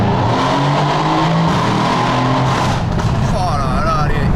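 A Mercedes C63s AMG engine revs loudly and steadily in a tunnel, with a droning resonance through the mid revs and rising whines near the end, and voices faintly underneath.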